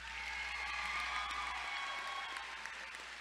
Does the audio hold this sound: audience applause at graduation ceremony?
yes